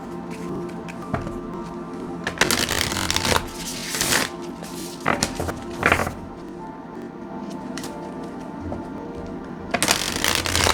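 Tarot cards being shuffled in several quick riffling bursts, close up, with soft taps and pauses in between.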